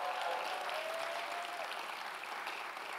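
A crowd at a Michigan Democrats watch party in Detroit applauds with steady, dense clapping that holds at an even level throughout.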